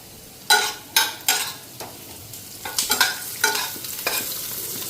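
Green chillies and onion frying in fish oil, with several sharp bursts of sizzling and spattering as they hit the hot pan, followed by a steady crackle and stirring. The sound is close and fairly loud, with no talking.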